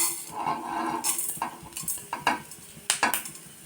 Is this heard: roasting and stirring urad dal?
yes